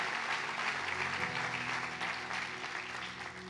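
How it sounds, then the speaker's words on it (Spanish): A church congregation applauds, a dense and steady wash of clapping that holds throughout and eases off slightly near the end. "Dale un aplauso fuerte al Señor."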